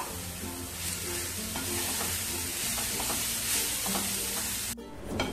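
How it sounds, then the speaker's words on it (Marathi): Fresh grated coconut is stirred into a hot, sizzling pan mixture, giving a steady frying hiss with soft repeated scraping from the stirring and a sudden drop near the end. "आता आपण ह्याच्यावरती हे ओलं खोबरं घालून घेऊया आणि चांगले एकजीव करूयात।"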